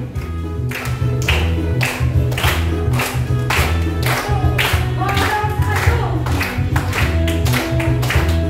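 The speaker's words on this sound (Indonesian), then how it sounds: "Semuanya tepuk tangan." Children at an Indonesian Sunday school church service clap their hands in a steady rhythm along with loud music playing throughout, sharp regular claps landing on the beat.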